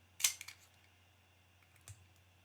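Scissors snipping during a manicure, one crisp close cut followed by a couple of faint clicks and a softer snip, in a quiet room.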